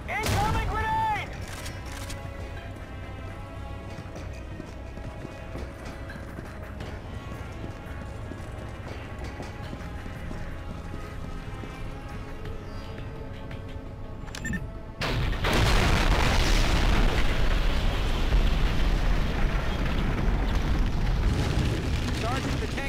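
A grenade blast and gunfire in the mobile shooter Modern Combat: Fallen Nation, in a factory mission: a long stretch of game action under a voice, then a sudden loud explosive burst, with dense crackling noise sustained to the end.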